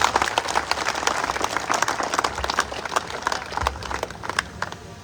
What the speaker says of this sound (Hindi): जोरदार तालियां आज के आयोजन के